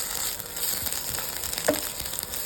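Ginger garlic paste sautés with onions and curry leaves in a pan for a Kerala-style chickpea curry, giving a steady, moderately quiet sizzle with faint stirring ticks.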